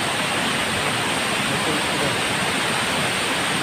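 Loud, constant rushing of flowing river water, a dense unbroken roar filling the whole moment with no voices.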